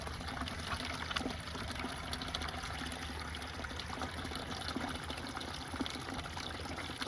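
Water from a hose running steadily into a chicken feed container, a continuous close trickle and pour with no talking over it.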